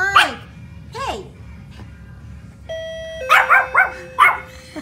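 A Pomeranian barks in sharp, high bursts as a two-tone doorbell chimes, the yaps coming in quick clusters around the ringing, with indistinct talk in the background.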